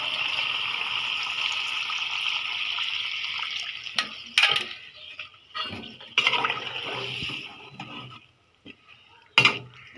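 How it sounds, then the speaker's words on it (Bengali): Water pours steadily into a pan of curry being cooked, a continuous splashing flow for several seconds, then scattered clinks and bumps of utensils with short gaps of quiet. "আমি এখানে একটু পানি দিয়ে দিব"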